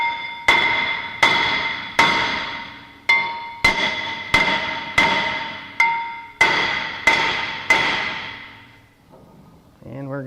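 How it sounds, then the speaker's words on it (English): A hammer strikes a stuck front brake rotor on a 2006 Toyota Tacoma about a dozen times at a steady pace. Each hit is a loud, ringing metallic clang that fades before the next, and a brief scrape follows at the end. "I'm going to try just to use a hammer and smack around the perimeter to free it up."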